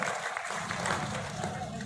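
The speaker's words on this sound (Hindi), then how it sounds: "एक बार जोरदार तालियों के साथ ओम प्रकाश जी जाखड़ का स्वागत किया जाए।" Brief crowd applause at a gathering at Nirjhardham Ranasar welcoming a guest, a steady mass of clapping with murmuring voices mixed in throughout.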